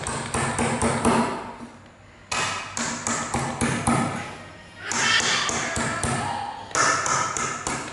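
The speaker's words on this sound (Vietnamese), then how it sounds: "Thì bây giờ mình sẽ lấy búa mình đóng gập đi 5 cây ha các bạn." A hammer drives and bends over nails in wood, a rapid run of sharp, close metallic blows in several bursts with short pauses between them.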